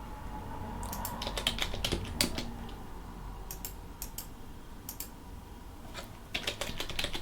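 Fast, uneven bursts of close computer keyboard typing, crisp key clicks in clusters with short pauses, on a Linux desktop setup with no talking.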